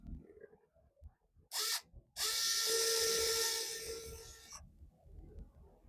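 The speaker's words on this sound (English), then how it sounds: "then we'll just drill right through here." A power drill whirs in two bursts, a short spin and then a longer sustained run that slows down, fairly close in a quiet room.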